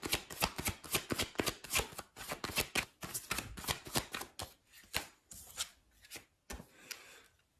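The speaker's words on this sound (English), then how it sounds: "Let's get another card here." Tarot cards shuffled by hand in quick, close riffling bursts with short pauses, the rhythm slowing toward the end as cards are drawn.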